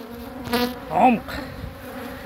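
Honeybees hum in a crowded summer beehive, a close, continuous buzz with a louder swell as bees pass near.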